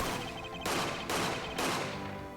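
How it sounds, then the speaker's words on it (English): Three loud gunshot blasts from the Ace Attorney video game ring out in quick succession, each a sharp broadband crack with a ringing tail, over a steady musical backing. "Those are some loud gunshots."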